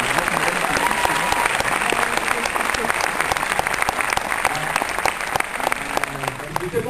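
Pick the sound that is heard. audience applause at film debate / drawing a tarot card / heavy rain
audience applause at film debate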